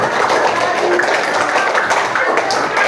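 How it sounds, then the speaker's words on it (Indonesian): A fifth-grade maths class applauds a student at the front of the room with a brief burst of close, dense clapping, mixed with some voices. "Tepuk tangan buat saudari Sarah."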